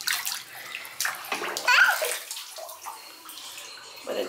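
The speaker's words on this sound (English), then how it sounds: "I'm going to try the oatmeal bath first" Water sloshes and splashes in a child's oatmeal bath, irregular bursts of swishing close by, with a small voice faintly heard in between.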